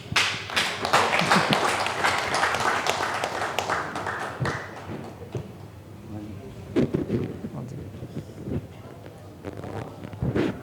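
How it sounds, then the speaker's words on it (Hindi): A stage audience at a political event in India claps to welcome a speaker, a dense burst of applause that fades after a few seconds into scattered claps and taps. "एक बार जोरदार तालियों से स्वागत किया जाए"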